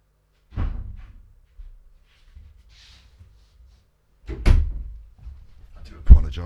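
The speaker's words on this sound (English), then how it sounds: "The cat was knocking things off the surface in a bid for attention." A cat knocks objects off a household surface: a dull thud near the start, a heavier clattering impact a few seconds later and a sharp knock at the end, with quiet gaps between.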